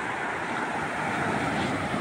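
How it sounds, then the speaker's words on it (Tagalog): Strong sea waves surge and wash onto a rocky beach, a loud, continuous roar of surf with wind buffeting close by, no voices. "Malakas lang po yung alon, eh."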